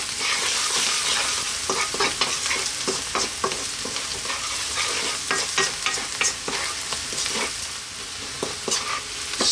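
Vegetables with salt and turmeric sizzling in a pan while being stirred for Ethiopian fasoliya tibs, continuous frying hiss with repeated scraping and clicking of the utensil, close and steady.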